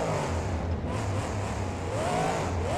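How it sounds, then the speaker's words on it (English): Monster trucks in a BeamNG freestyle run at Arlington, Texas, roar steadily with engine drone and revving, a deep idling rumble underneath, loud and continuous. "you could hear not just the sound of the trucks driving, but very deep in the back of the trucks actually being like idled"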